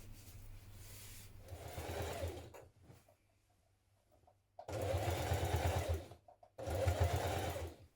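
A sewing machine stitches straight across the front of a pair of dungarees in two close, steady bursts with a short pause between, with faint mechanical clatter underneath.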